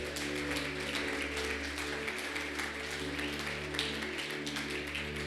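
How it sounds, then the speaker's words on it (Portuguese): A church congregation claps loudly, a continuous dense patter of many hands heard over a steady sustained organ or keyboard chord droning underneath. "Você pode aplaudir bem forte o nome do Senhor Jesus."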